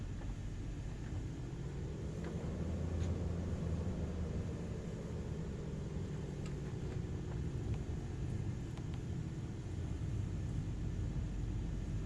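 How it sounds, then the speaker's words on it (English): A V8-sounding aircraft engine in Microsoft Flight Simulator 2024 drones steadily and loud throughout, with a deep low rumble and a slowly shifting tone. "no, it sounds like a V8, doesn't it?"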